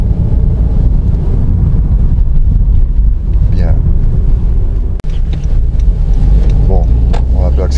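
Honda Jazz accelerating, heard from inside the car as a steady low engine and road rumble with wind noise while people talk over it.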